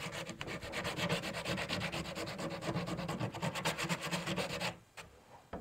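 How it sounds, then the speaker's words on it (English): Sandpaper rubbed quickly back and forth along the painted wooden edges for a distressed look, dozens of even, close scratchy strokes that stop abruptly near the end. "do not sand all your edges"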